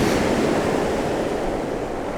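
Ocean waves break on a shoreline close by in a continuous, loud wash of surf, with some wind buffeting the microphone and no voices.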